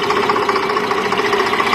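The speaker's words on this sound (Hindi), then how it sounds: "अब ट्रैक्टर बैक आ जाएगा ना, तो कोई प्रॉब्लम नहीं होगी।" A tractor engine runs steadily with a loud, rough, knocking idle while reversing in a wheat field, with no talk over it.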